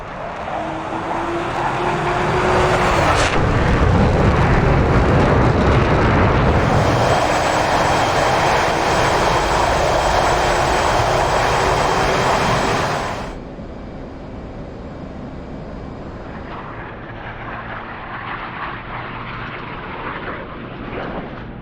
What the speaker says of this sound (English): you are cleared for takeoff when ready